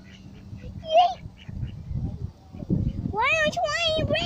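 Ducks at a lake quacking and honking in short nasal calls, one early call and a louder stretch near the end, with people talking and outdoor background throughout.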